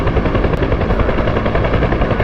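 Huey helicopter in a flight simulator, a steady loud rotor thump and engine drone running without a break and without speech.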